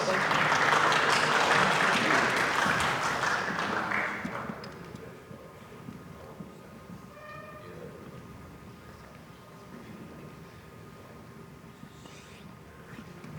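A high school basketball media day crowd at Rutherford County applauds loudly and steadily for about four seconds, then the clapping drops away to a quieter room murmur.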